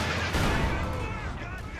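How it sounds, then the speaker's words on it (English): A .50 cal machine gun fires in a video game, a dense, loud, continuous burst of rapid gunfire with booming low rumble filling the whole short stretch. "The 50 cal suppressing this blob."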